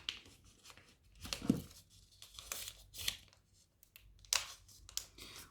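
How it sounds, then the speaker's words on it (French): Paper being creased and folded for a four-pointed origami star, with crisp crinkling rustles and sharp creasing swipes in short irregular bursts, close and quiet, with no talking. "On plie en deux petits côtés sur petit côté pour avoir le trait du milieu."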